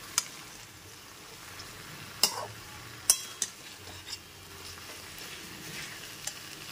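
Slit green chillies frying in a pan with greens for an Ilish fish-head and pui shaak chorchori, a steady soft sizzle broken by a few sharp clinks and stirring knocks, close and moderately loud.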